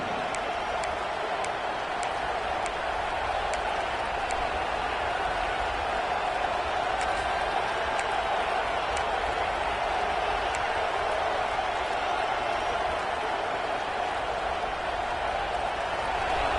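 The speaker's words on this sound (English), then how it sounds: "listen to this crowd noise. This stadium is vibrating." A vast stadium crowd roars at a Notre Dame versus Clemson football game during a timeout, a constant, dense wash of noise, loud and unbroken, with no single voice standing out.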